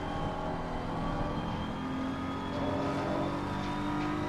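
Race car engine in Assetto Corsa Competizione running steadily at high revs with a gear change partway through, a continuous close, loud mechanical drone with no talk.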